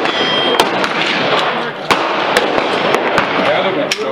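A Glock 17 pistol fires Hush ammunition outdoors, with a series of sharp, fairly subdued shots at irregular intervals over steady background noise.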